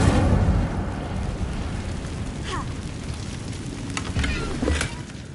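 Incendio fire spell cast in Hogwarts Legacy, a loud fiery whoosh and rumbling burst at the start that eases into crackling, with a few sharp pops and flares near the end.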